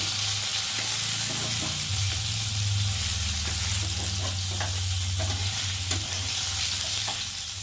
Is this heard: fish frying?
yes